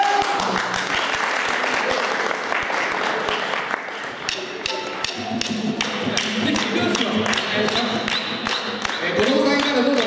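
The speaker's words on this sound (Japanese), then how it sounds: "よかったら手拍子足拍子盛り上げてください" An audience claps along to a dance song performed by a festival group at a live show. The clapping is dense, rhythmic and steady, with music and voices beneath it.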